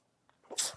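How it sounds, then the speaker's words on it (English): A single sharp sneeze from a woman outdoors in dusty air during a Pilates workout with weights, starting with a short breathy intake and ending in a loud burst. "I'm sneezing because of the air quality"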